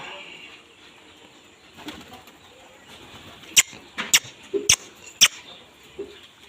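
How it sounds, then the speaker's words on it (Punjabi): Pigeon on a ledge near its two eggs, soft low cooing followed by a few sharp bursts of wing flapping up close, against a quiet background. "ਲਓ ਜੀ ਆ ਕਬੂਤਰੀ ਐਟ ਤੇ ਬੈਠੀ ਆ"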